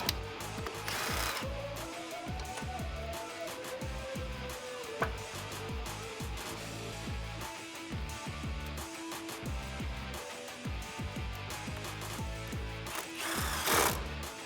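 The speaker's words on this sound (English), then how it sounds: "Grab your 10 socket and tighten that down." Socket wrench ratcheting on a bolt of a 2014-2018 Silverado 1500 front strut, a long run of close, quick clicking strokes with irregular pauses and clanks, no talking.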